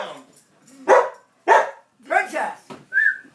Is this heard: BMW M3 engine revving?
no